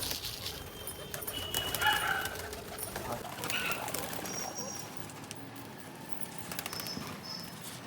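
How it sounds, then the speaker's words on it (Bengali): Pigeons feeding on a mixed grain feed of wheat, millet and ragi, with soft scattered calls and some rustling and fluttering, fairly faint under steady background noise. "তো গায়েস পায়রাগুলো খাচ্ছে"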